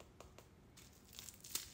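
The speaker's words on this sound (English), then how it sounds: "So let's open up the seasoning packet." Plastic seasoning packet being torn open, a few faint, sharp crinkling rips separated by short pauses, with a louder tear near the end.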